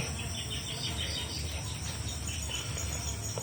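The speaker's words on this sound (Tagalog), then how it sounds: "Ito yung nangyari sa kusina namin. Napakaraming insekto." A swarm of insects in a home kitchen gives a dense, continuous high chirring drone like crickets, steady and close with no pauses.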